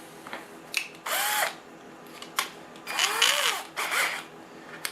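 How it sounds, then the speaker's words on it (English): A power drill with a larger bit bores out a hole in a 1/14 Tamiya Grand Hauler rollback truck model, running in several short, close bursts of whining spin separated by brief pauses. "I'm going to drill that out with a larger drill"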